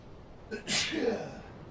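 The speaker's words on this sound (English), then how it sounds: "I have to sneeze." A single sharp sneeze, close and sudden, with a short intake of breath just before it.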